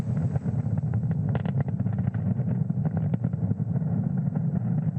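A SpaceX Falcon 9 rocket lifting off from Space Launch Complex 40 at Cape Canaveral gives a steady, distant rumbling roar with a crackling texture that holds at an even level throughout.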